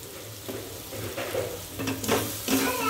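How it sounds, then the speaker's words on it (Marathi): Tomato ketchup hits hot oil in a pan while pasta is being cooked, giving a steady close sizzle with stirring scrapes that swells toward the end. "आता आपण सॉस घालूया त्याच्यामध्ये टोमॅटो केचप"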